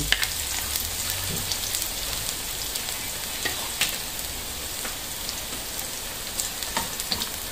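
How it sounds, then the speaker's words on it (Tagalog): Garlic sautés in a pan for gatang gulay with papaya and malunggay, a steady close sizzle and crackle with occasional stirring scrapes throughout. "Gigisa muna ng bawang."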